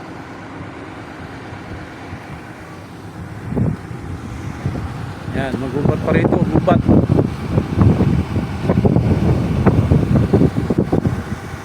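Steady gusty wind roars across the microphone outdoors on a cold mountainside near Mount Makiling while someone talks over it.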